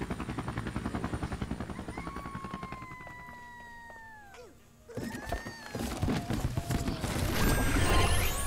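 A toy helicopter flies in the Disney Infinity video game in a Los Increíbles level, giving a steady rotor-like drone with rising and falling engine tones and game effects over busy background music.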